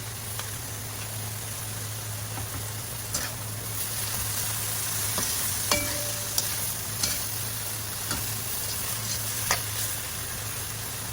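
Cabbage and corn sizzle steadily in a pan, with a continuous fizzing crackle, occasional sharp pops and light stirring clicks, heard up close over a low hum.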